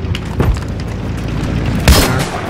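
Explosives going off in Battlefield 3 on the large Gulf of Oman map: a loud, deep boom near the start and a second sharp blast just before the two-second mark, over a rumbling wash of game noise.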